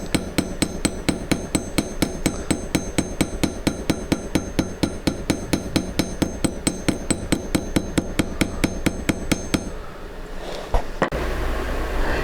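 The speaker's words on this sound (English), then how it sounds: "using the cross peen and start putting a heavy line texture on that piece of metal." Cross peen hammer striking silver sheet to raise a heavy line texture, a long run of rapid, evenly spaced ringing metallic taps, close and loud, then stopping with a clunk and a brief rustle of handling.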